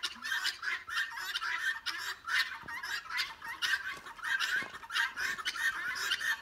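Guinea fowl call outdoors in a dense, loud chorus of harsh repeated cackling that rises and falls continuously, with a few faint knocks underneath.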